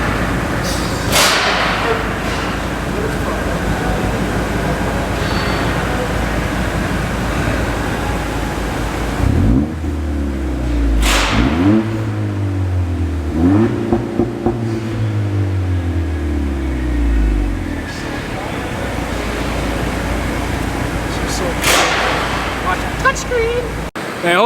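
A 10th-generation Honda Accord with a new aftermarket exhaust revs repeatedly, its engine pitch climbing and falling in several sharp sweeps. Loud bursts and crackles come between revs, with some voices in the background.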